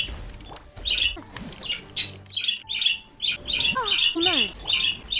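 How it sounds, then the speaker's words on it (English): Repeated chirping bird calls from the video game Chasm, several bright squawks and tweets in a quick series, with someone talking over them and game sounds underneath. "Ah, yes, bird."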